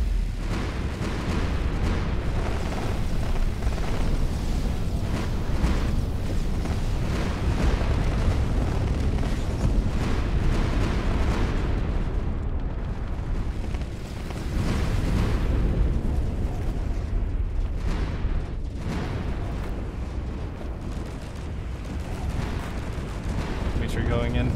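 Coil cannons fire and explosions blast in Space Engineers player-versus-player tournament combat, a continuous loud rumble of booms and bursts that barely lets up, with a commentator talking over it.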